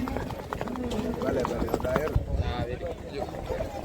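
Horse hooves clip-clop in an irregular rhythm close by at a rewal chal horse race in Kutch, India, mixed with someone talking throughout.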